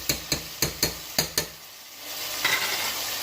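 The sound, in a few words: garlic ginger paste sizzling and being stirred in pan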